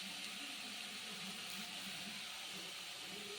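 Water being poured into a bowl for cooking, a continuous, even rushing hiss that holds steady at a moderate level throughout, with no talking over it.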